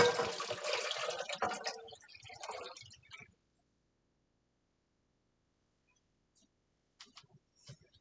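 Water pours loudly and close into a container for about three seconds while eight cups are filled, then stops abruptly, leaving near silence broken by a few faint clicks.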